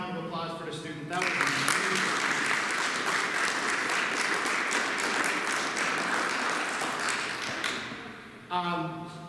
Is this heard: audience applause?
yes